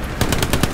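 Brief, loud burst of automatic gunfire from the World War II shooter game Hell Let Loose, with about five evenly spaced shots that follow a short lead-in.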